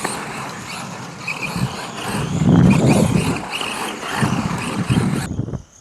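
Tamiya TT-02 RC rally car drifting, its small electric motor whining and rising in bursts as the tyres scrabble on loose ground, close and fairly loud, ending abruptly.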